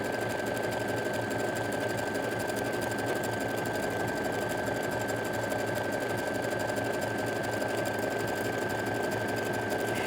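A sewing machine stitches fabric appliques onto a child's bedroll, running with a steady, continuous mechanical whir and rapid needle chatter at close range throughout, with no pauses or talk.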